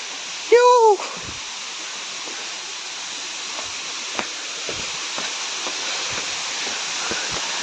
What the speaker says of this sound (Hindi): वेलकम टू प्रधान पाट वाटरफॉल